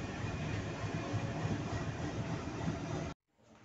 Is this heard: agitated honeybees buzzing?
no